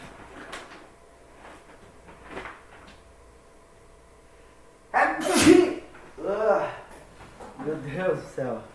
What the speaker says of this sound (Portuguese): Pera aí, pessoal, que eu vou espirrar ali.